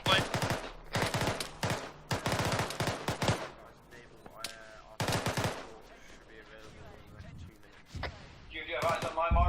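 Heavy artillery and gunfire in Arma 3 roll out in several loud, thudding bursts of rapid shots, with voices talking over and between the salvos.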